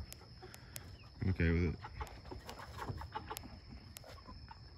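A hen gives a short burst of loud clucks, with faint chicken sounds and a person speaking briefly in the background.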